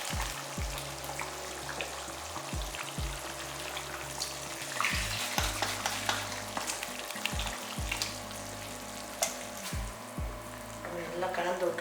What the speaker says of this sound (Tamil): அதுக்கு குழம்பு வந்து நல்லா கொதிச்சுக்கிட்டு இருக்கு